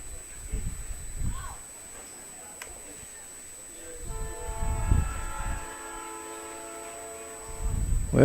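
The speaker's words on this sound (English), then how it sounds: "we have a train that's going by here right back behind the stadium" A train sounds its horn while passing behind a baseball stadium during a game; the sustained horn rises midway through and carries over crowd noise as a commentator keeps talking.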